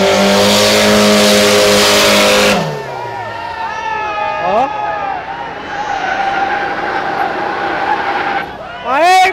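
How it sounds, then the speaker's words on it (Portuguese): A stock Mitsubishi L200 pickup does a burnout at a drag strip: a loud revving engine cuts off, then tires squeal and skid in wavering screeches with a final burst of screech, as onlookers shout nearby. "E o maluco ainda vai fazer um borrachão pra gente, vamos ver como vai ser isso daí."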